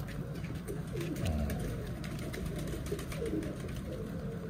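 Pigeons, among them a male and one that had been sitting on eggs, coo in a low, rolling murmur that repeats steadily throughout, close and fairly loud over a faint background hiss.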